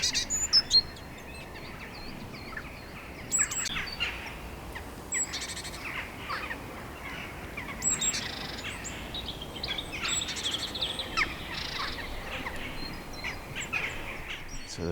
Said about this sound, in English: So the raven has now come down to feed the chicks